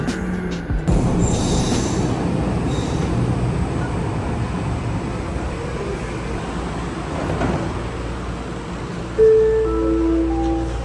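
Steady rumble of a Vancouver SkyTrain metro train running on rails, with a thin high-pitched wheel squeal rising near the end.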